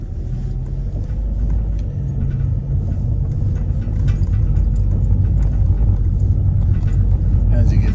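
A car drives through a residential neighborhood of large lots in Orono, Minnesota, its steady low road rumble and tire noise continuous and close, with a voice talking over it throughout.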